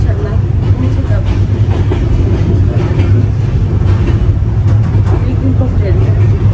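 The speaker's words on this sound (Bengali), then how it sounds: "অনেকদিন পর ট্রেন।" A passenger train runs steadily on its rails, a loud constant low rumble with soft rhythmic clatter from the carriage, heard from inside, while people talk over it.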